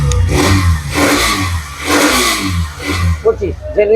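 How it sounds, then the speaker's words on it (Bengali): A used 2025 Hero four-stroke motorcycle engine runs close by, rising and falling through a few smooth revs before settling, with voices talking over the end. "গাড়ির সাউন্ড শুনেন একদম স্মুথ"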